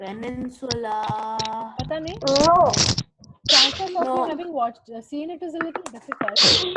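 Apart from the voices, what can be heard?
sneeze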